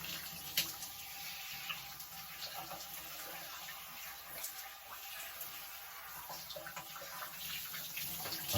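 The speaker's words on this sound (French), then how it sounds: "On se retrouve sous la douche, c'est parti." A shower runs in a steady, close hiss of spraying water while a man wets his long hair beneath it, with faint shifts and splashes throughout and no talk.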